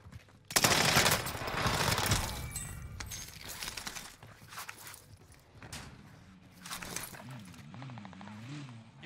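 Gunfire rattles in Call of Duty Warzone, a loud burst of automatic shots followed by scattered bangs and movement noise, with voices speaking briefly near the end.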